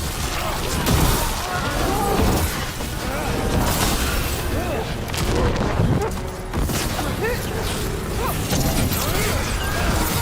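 Mortar fire explodes during a battle in the video game Dragon Age: The Veilguard, with heavy booms and crashes in dense, continuous combat noise while voices speak over the chaos.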